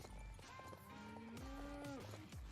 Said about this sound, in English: He's really stretching his legs far too much to the front. I've never really seen a horse running that strange.